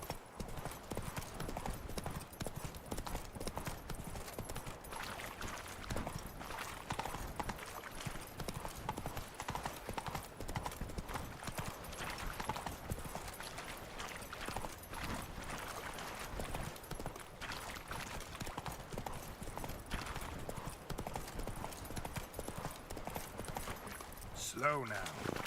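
Hooves of the horse Roach clip-clop in a steady rhythm through The Witcher 3 game, fairly quiet and continuous under a bed of game ambience, with a brief louder sound near the end.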